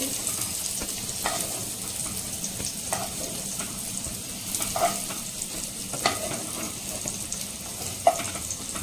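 Paneer sizzles and fries in butter in a pan with a steady crackle, occasional scraping stirs and light clinks, fairly quiet and without voices.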